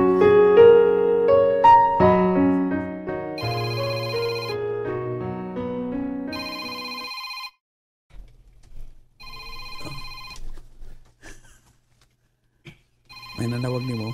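A phone ringtone plays as a melodic electronic tune, loud and clear, then breaks off into shorter repeated ringing bursts with pauses between them.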